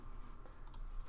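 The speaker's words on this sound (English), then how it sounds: "So you'll be hearing all the tip tapping of my keyboard." Computer keyboard keys tapped during a relaxed live stream, a few faint scattered clicks over a low steady room hum, with no voices.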